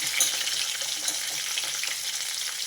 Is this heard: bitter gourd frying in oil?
yes